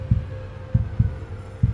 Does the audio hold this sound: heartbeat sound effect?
yes